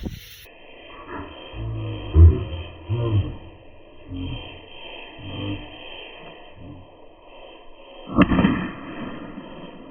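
Fireworks launched outdoors give several dull, booming thumps in quick succession, then a single sharper, louder bang near the end, with quiet background between.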